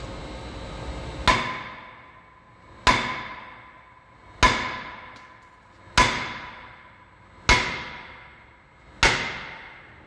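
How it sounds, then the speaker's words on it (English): A hammer strikes the outside face of a stuck Ford truck brake rotor six times at a steady pace of about one and a half seconds, each loud metallic bang ringing and decaying before the next. "I'm gonna be hitting from here. The outside face of the rotor."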